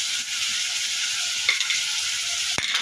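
Cumin, chili paste and ginger paste frying in oil, a steady close hiss and sizzle with a couple of brief stirring knocks, no talk.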